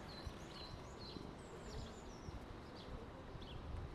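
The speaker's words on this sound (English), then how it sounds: "Busy, busy bees." A dense, steady hum of buzzing honeybees at an open hive during inspection fills the air, with occasional chirps overhead.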